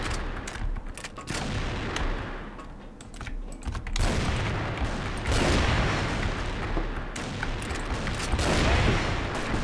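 Gunfire in the online shooter CrossFire, with bursts of shots and booms layered over dense clicking of a computer keyboard, loud and continuous across the whole stretch, no voices.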